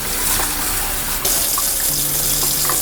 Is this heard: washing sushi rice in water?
yes